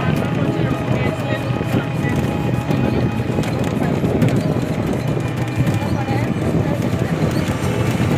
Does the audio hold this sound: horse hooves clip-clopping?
yes